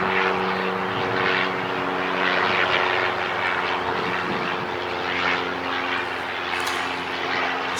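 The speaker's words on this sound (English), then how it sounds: "Our first takeoff for this year." An airliner takes off at Long Beach airport, its engines a steady, loud roar with a low drone that holds evenly throughout, heard from the field with no talking.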